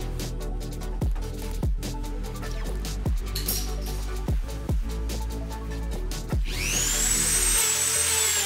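Rhythmic scraping strokes of sanding a Jeep WJ snorkel part rough, repeated about once a second, followed by a high-pitched whine of a power tool toward the end.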